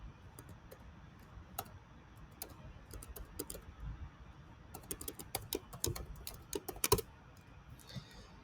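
Password typed on a computer keyboard to reach a Linux server over SSH: quiet, irregular runs of close key clicks, growing busier and louder toward the end, with no talk.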